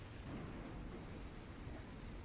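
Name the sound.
rolling thunder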